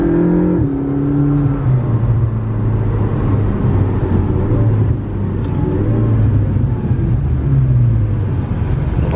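A 2015 McLaren 650S Spyder, a salvage car, hums loudly and steadily close by on warmed-up tires, its engine tone shifting slightly in pitch as it idles and revs.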